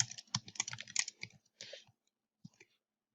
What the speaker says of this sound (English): here's where you'll type your question